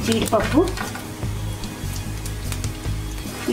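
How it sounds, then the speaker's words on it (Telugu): Cashews fry in hot oil in a pan for carrot rice, a close, steady sizzle with occasional stirring scrapes. "జీడిపప్పు కూడా కొద్దిగా వేగాక"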